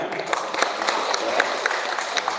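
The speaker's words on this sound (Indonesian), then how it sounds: "kita boleh kasih tepuk tangan" A church congregation at a Good Friday service applauds together, a dense, even patter of many hands filling the hall, with scattered louder claps throughout.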